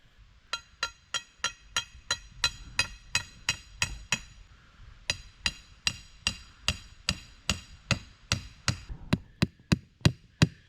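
A hammer drives a wooden stake into the ground with sharp, evenly paced strikes, about twenty-five blows in two runs separated by a short pause, heard close and alone.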